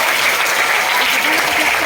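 Dense, continuous applause from a school crowd welcoming the mayor at a children's parliament election event, loud and steady throughout.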